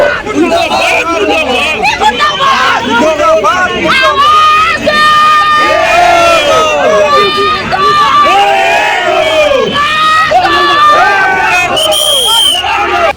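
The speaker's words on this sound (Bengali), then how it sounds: "প্রতিবাদী মিছিল আটকানোর সময় পুলিশ এবং কংগ্রেস কর্মীদের মধ্যে তুমুল সংঘর্ষ" A dense crowd shouts and clamours during a clash between police and Congress protesters at a protest march, with many overlapping raised voices and yells sustained loudly throughout.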